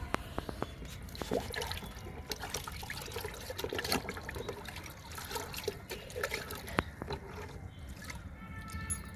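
Liquid fertilizer being poured and diluted into ten-litre buckets of water for fruit trees and moringa plants, a steady soft trickle and splash of liquid with faint drips, close and alone.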